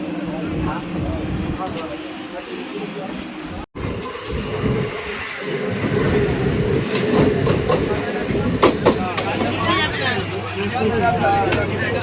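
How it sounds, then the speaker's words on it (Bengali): A local passenger train pulls into a busy station platform, with rumbling wheels, screeching brakes and metallic clatter growing louder over crowd chatter and nearby speech. "আমি জলটা নিতে গেলাম এর মধ্যে ট্রেন ঢুকে গেছে"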